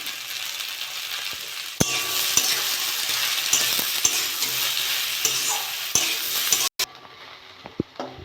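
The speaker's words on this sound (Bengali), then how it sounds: "কচুরলতিটা আমার ভাজা হয়ে গেছে," Taro stolons fry in a pan with a loud, continuous sizzle broken by scraping stirs and spatula taps. The sound cuts off abruptly near the end, leaving a few quiet knocks.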